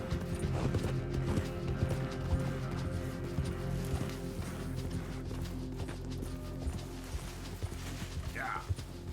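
Galloping horse hooves from the video game Red Dead Redemption, a fast continuous clip-clop over a low rumbling bed, with a short whinny-like cry near the end.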